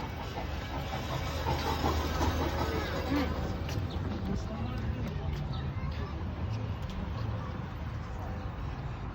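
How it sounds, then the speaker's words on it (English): A tourist train rolls past on an outdoor walking trail, a steady rumbling hiss with faint clicking over several seconds, heard beneath close conversation. "There's a train coming."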